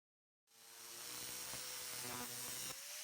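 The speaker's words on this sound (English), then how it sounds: "Now all we have to do is slice off the extra material with the angle grinder." An angle grinder slices off excess metal while fitting a turbocharger to a Kubota D722 diesel engine, a steady, loud, high whine starting abruptly and running continuously, pitch shifting slightly as the cut progresses.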